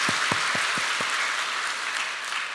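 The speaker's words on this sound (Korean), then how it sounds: "우리 부활하시고 우리를 부활시켜 주시는 예수님께 감사 박수 올려드리겠습니다." A church congregation at a Sunday Easter worship service applauds in steady, dense clapping that fills the room, with a few louder claps at the start.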